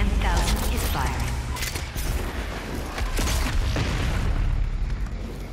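The BFG 10,000 in DOOM Eternal firing, giving deep booming blasts and creaking mechanical rumbles over a dense, loud background of game effects.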